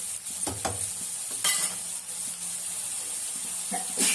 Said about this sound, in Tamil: ஏற்கனவே நம்ம எண்ணெயில் தான் வதக்கிருக்கோம் அந்த மசாலாவெல்லாம்